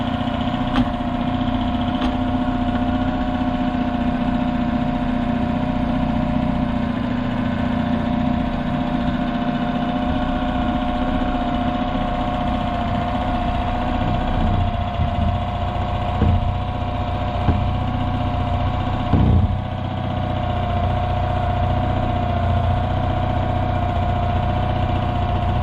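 Replacement car engine idling on its first start, a steady low rumbling drone with constant vibration and a few faint clicks and knocks, running alone and close for the whole stretch.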